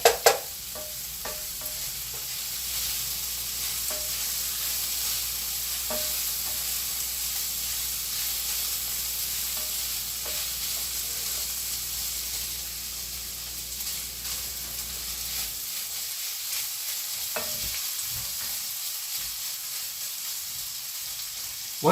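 Food fries in a pan while being stirred, a close, steady sizzle with scraping and clinking against the pan, cutting out sharply near the end as the heat or stirring stops.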